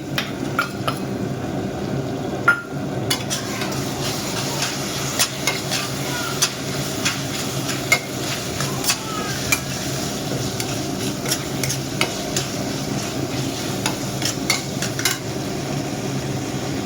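Prawns go into hot masala for a spicy prawn and brinjal curry, sizzling steadily while a spoon scrapes and stirs with frequent clinks against the pan, close and busy throughout.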